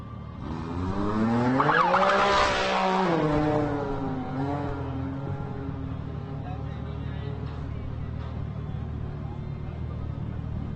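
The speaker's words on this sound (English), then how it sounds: "Craig Lumsden, Jamie Labber, and Jason Cobb in that Colorado Motorsports Can-Am" A Colorado Motorsports Can-Am off-road race vehicle at the SCORE Baja 400 starting line revs loudly and pulls away, its engine note rising then fading into steady background noise.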